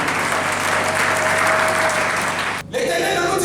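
A church congregation claps and cheers for Jesus in a dense, steady roar of applause that drops briefly and then surges back.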